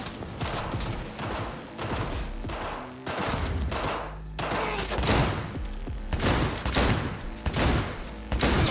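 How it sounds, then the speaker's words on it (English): Repeated shotgun blasts ring out in a Cyberpunk 2077 firefight, loud and close, with heavy booming bursts spaced every second or so amid dense game combat noise. "Oh, shotgun."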